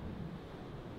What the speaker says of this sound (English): It's like thunder all the time, huge waves.